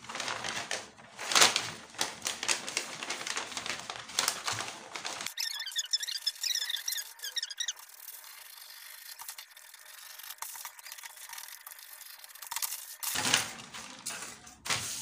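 Scissors snip and rasp through fabric while cutting a trouser pattern, with close, irregular crunching and rubbing strokes and a quieter stretch in the middle.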